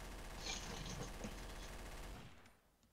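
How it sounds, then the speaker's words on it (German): Rapid gunfire from the video game Trouble in Terrorist Town comes as a sustained, muffled burst that cuts off and fades after about two seconds. "Auf mich wird geschossen."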